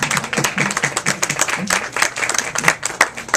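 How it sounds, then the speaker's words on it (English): A seated audience claps for a St. Vincent de Paul volunteer at an evening gathering, a moderate crowd whose individual hand claps stand out in an uneven, busy patter lasting a few seconds. "we just want to applaud you for all the work you did"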